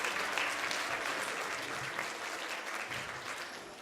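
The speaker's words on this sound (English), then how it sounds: "Big round of applause for Aaron as he joins me up on the stage." Sustained audience applause at a live mindreading and magic show as a volunteer heads up to the stage, a dense, even wash of clapping held at a moderate level from start to finish.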